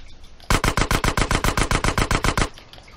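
Rapid bursts of video game gunfire from Grand Theft Auto San Andreas, about fifteen loud, evenly spaced shots fired in one sustained two-second volley, then silence.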